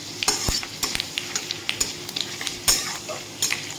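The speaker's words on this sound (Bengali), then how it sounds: "5 ফোড়নটা এখানে ভাজা হয়ে গেছে" Panch phoron spices with dried red chillies fry in hot oil for hog plum pickle, a continuous sizzle broken by sharp scrapes and clinks of a spatula stirring against the pan.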